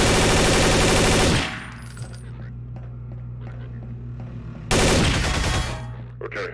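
Half-Life 2 gunfire, loud bursts of rapid automatic shots that fill a full second, drop away to quieter game clatter and mechanical tones, then return in a second dense burst.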